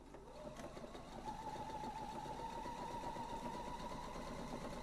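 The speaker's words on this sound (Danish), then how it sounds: "Der har jeg helt styr på, hvor det er, jeg syr." A sewing machine with an open-toe foot stitches through quilt fabric layered over thermolam batting, humming steadily with a fast rhythmic stitching texture that starts softer and settles into a continuous, even run.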